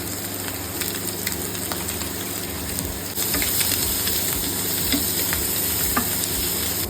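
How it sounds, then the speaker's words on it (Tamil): Egg fried rice with carrot, coriander and salt being sautéed in a hot pan, a continuous close sizzle and hiss with soft scraping stirs, growing slightly louder partway through. "இதுக்கு தேவையான அளவு சால்ட் சேர்த்து இதிலே வதக்கிக்கலாம்."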